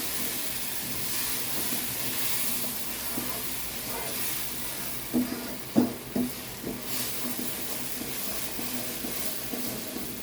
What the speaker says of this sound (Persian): آب جوش چند مرحله اضافه میکنیم.